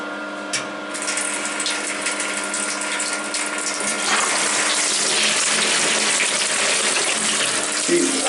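A hotel toilet in a European bathroom gives a big, powerful flush, a loud rushing gush of water that swells and holds steady for several seconds close by, with no talk over it.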